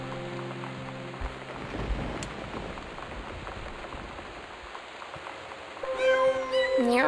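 Soft rain patters steadily in the background, then a cat meows a few times near the end, in the video game Gone Home.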